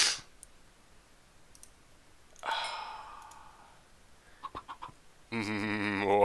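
Minecraft chickens clucking in short, sparse bursts, fairly quiet, between soft clicks and a louder buzzing game tone that fills the end.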